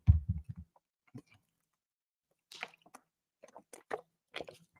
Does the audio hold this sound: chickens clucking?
no